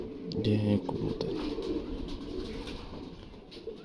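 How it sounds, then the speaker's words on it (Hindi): A Kammagar pigeon from Kashmir gives a soft, low coo near the start, followed by a steady rustling background with faint bird sounds. "ये है कबूतर।"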